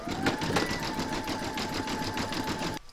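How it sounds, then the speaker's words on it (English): An embroidery machine satin stitches an in-the-hoop stacked pumpkin design: a close, steady motorized whir with fast repeating needle pulses that runs almost three seconds, then cuts off abruptly. "then you can go on and stitch round number 8, which is a satin stitching"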